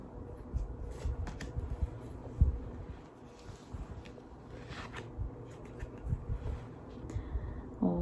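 Tarot cards are shuffled and drawn in soft bursts of riffling and sliding, quiet and close, with a light tap or two between the bursts and no talk.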